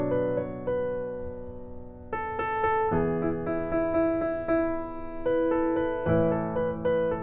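A piano plays a song with plain chords, close and clear, sustained chords shifting every second or so under a simple melody, with no voices.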